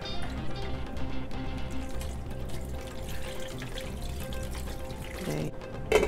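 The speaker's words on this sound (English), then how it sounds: "I'll just go ahead and put my water in there." Water poured into a cooking pot of Liberian kittely torborgee with bell pepper, seasoning and meat, a steady continuous splashing pour with running-water texture, fairly loud and close, alone with no talking.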